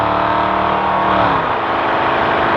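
A race vehicle's engine runs at about 3,000 RPM at 50 to 60 mph during the Mint 400 off-road race, a loud, steady, close drone with a rising harmonic whine and no break throughout.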